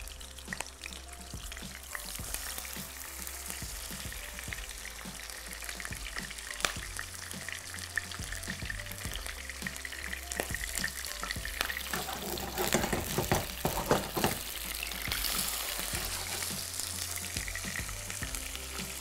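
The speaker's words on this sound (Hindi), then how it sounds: "यहाँ पे इस तरीके से इसको शैलो फ्राई कर लें" Kofta shallow frying in oil in a kadhai gives a steady, dense sizzle throughout, with brief clatters of stirring or turning around the middle and no talking.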